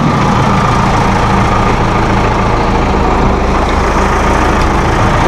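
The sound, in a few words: Massey Ferguson 2680HD utility tractor engine running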